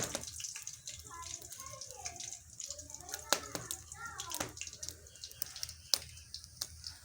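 Water poured into freshly pounded masala with salt in a cooking pan, a soft running splash lasting several seconds over background noise, with a voice and sharp clatters in the room.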